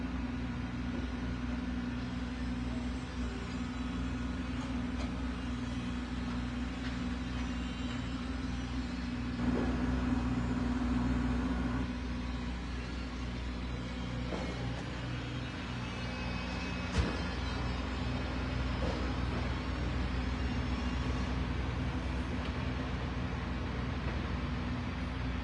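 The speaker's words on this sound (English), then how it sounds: "brought over to a truck over here that's loading this limestone" Heavy machinery hum with a steady low engine drone and tonal bands from a truck being loaded with reclaimed limestone blocks at a demolition site, continuous and fairly close, with a few brief knocks and no talk.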